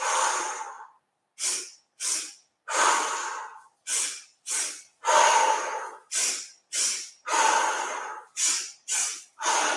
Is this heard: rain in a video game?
no